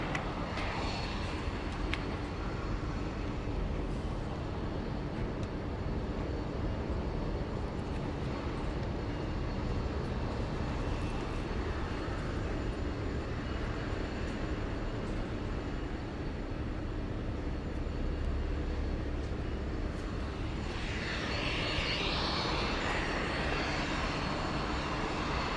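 Jetstar Airbus A320 airliner landing at Sydney Airport on runway 34 left, a steady broad jet engine roar heard from a distance that holds constant throughout, with faint outdoor background.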